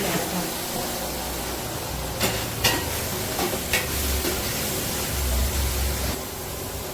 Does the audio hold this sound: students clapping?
no